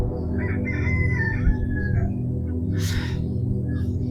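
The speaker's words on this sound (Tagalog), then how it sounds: "huni ng ibon at kung ano-ano pang mga ibon o mga hayop" In a quiet rural province setting, a rooster crows at mid distance while smaller birds chirp and twitter faintly over a low, steady ambient hum.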